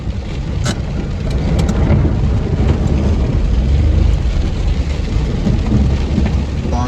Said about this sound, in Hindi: इस अपने ڈڈیال शहर विच बारिश लगी हुई है और तेज़ और तूफानी बारिश लगी हुई है।